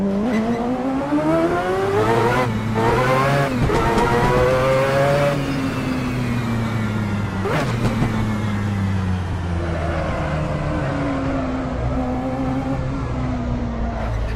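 Mazda 787B race car in a video game, its rotary engine revving loud and steady with rising and falling harmonic sweeps as it accelerates and shifts, no talking.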